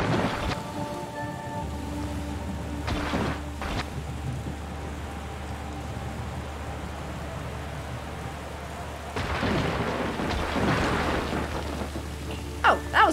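Steady rain hisses through the puzzle game The Gardens Between, and thunder cracks and rolls in twice, the second roll louder, with no one speaking over the storm.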